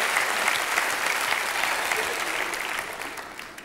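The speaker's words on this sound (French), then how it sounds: "Applaudissez très fort Carlos Vaquer." Audience applause for the mentalist Carlos Vaquera fills a cabaret hall, a dense, steady wash of clapping from a large crowd that holds level and then slowly fades toward the end.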